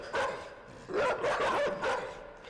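A dog barks in the video game INSIDE: several sharp, loud barks in quick bursts, spaced over a couple of seconds with brief gaps between them, and no talk.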